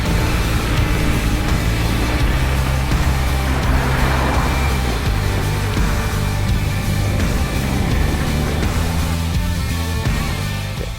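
A veteran Sherman tank drives along at a steady pace, its engine and running gear making a continuous loud low rumble with clattering throughout and no talk.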